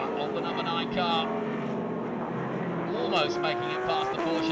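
Race cars at Mid-Ohio in SVRA vintage racing, with the number 9 car battling a Porsche. Engines scream past and their pitch drops in two clear passes over a steady background roar, heard under commentary.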